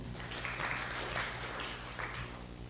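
Conference attendees applaud, a soft wash of many hands clapping in a room with a low hum beneath, steady and fairly distant with slight surges.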